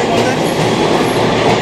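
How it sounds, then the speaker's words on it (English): A train moving through a New York City transit station, a steady loud rumble of wheels and car noise filling the whole stretch with faint clickety-clack, close by. "there's the train and it's moving"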